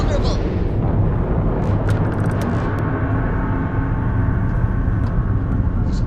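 Spaceship weapons in Starfield hammering an enemy ship during space combat, a dense, continuous roar of rumbling blasts and explosions that stays loud throughout, with a few sharper bright hits early on.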